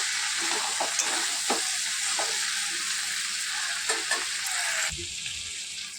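Fish heads and fish roe fry in a pan with a loud, dense sizzle, broken by occasional stirring scrapes and a soft clunk near the end.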